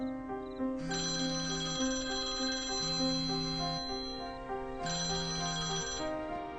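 A phone ringtone plays a repeating electronic melody, loud and close, ringing on without a pause and with no voices.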